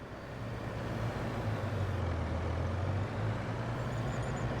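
A truck engine runs in the video game Farming Simulator 22 with a steady low rumble and drone, close and continuous, with no voices over it.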